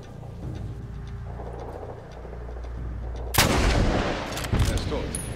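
Gunfire in the Medal of Honor Warfighter video game: a steady mechanical hum breaks into a loud, close blast, followed by another sharp shot and a rumbling tail, with no talk over it.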